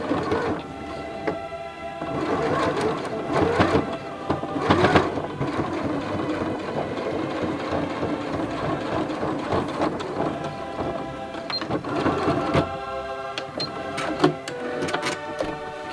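A sewing machine top-stitches a tucked hem on a wrap dress, a continuous close mechanical whir with rapid needle clatter that runs nearly unbroken throughout.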